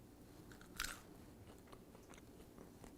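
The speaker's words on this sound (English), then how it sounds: "I don't know if you could hear that crunch, but they actually crunched." A single sharp crunchy bite into double-fried, sea-salted french fries lands near the start, followed by faint quiet chewing and small crackles in an otherwise hushed room.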